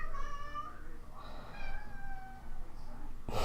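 A cat meows several times in drawn-out, wavering calls, fairly close, with a short sharp noise at the very end.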